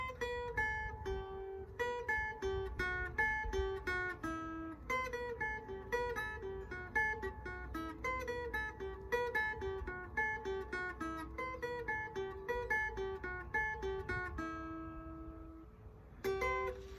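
A lightly picked guitar exercise on fretted strings: a continuous, even stream of quick single notes, played alone at a soft, steady level.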